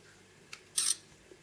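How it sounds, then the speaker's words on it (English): A Sanyo Xacti VPC-SH1 digital camera snaps a photo with a soft electronic click followed by a short, bright shutter sound, close and clear in a quiet room. "if I zoom in again, I'll take another photo"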